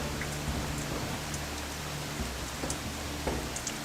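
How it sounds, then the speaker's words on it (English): A heavy, unseasonable downpour in the Australian outback makes a steady, dense roar of rain pattering on surfaces, continuous and fairly close, with no voices. "The evening of day 1 brings a torrent of unseasonable rain"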